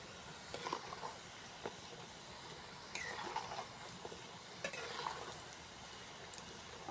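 Oil heating in a pan for frying sukku appam, a village snack, gives a faint steady hiss with a few soft clinks and stirs scattered through, quiet and without talk.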